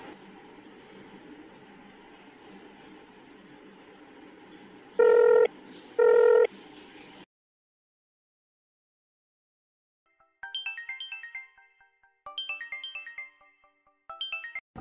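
A telephone in a short film gives two loud electronic beeps, then falls silent before a run of bright, patterned dialing and ringing tones repeats in short bursts over a faint background hum.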